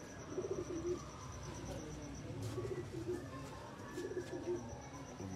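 Breeder Taddy pigeons coo softly in repeated short bursts, about three cooing phrases spaced a second or two apart over a quiet background hum, with faint chirps mixed in.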